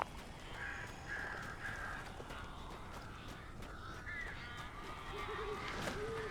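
Crows caw in the video game Alan Wake, several short rasping calls in sequence over a low murmuring game ambience, fairly quiet throughout.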